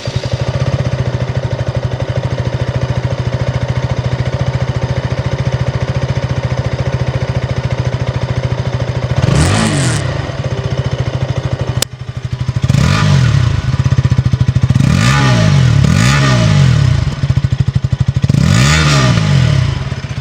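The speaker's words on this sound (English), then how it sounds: "let me just show you how this Duke 160 sounds like" A 2026 KTM Duke 160 motorcycle idles steadily up close, then is revved in several sharp throttle blips that rise and fall, with a brief click midway and no talking.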